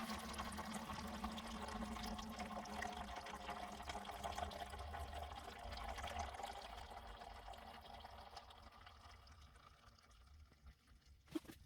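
Liquid plant food pours into a watering can in a steady, soft gurgling stream that runs for several seconds and then tapers off to a few drips at the end.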